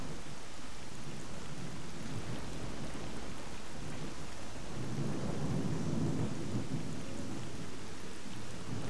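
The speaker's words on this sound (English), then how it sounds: "the thunder is kind of foiling my whole" A video game thunderstorm, with steady rain pattering on surfaces under deep rolling thunder that swells midway. The sound is a continuous, fairly loud ambient wash and no one speaks.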